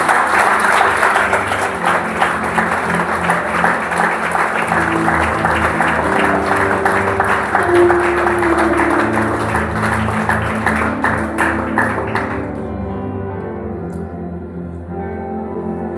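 A church congregation applauds for Jesus in sustained, dense clapping, loud and close, with music playing underneath; the clapping thins out and drops off near the end.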